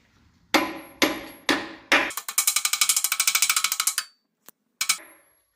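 Harder hammer pounding a socket on a 300 ci 4.9L inline-six engine head: four loud, ringing metallic blows, then a rapid burst of lighter taps, then a couple of final strikes, close up and without talking.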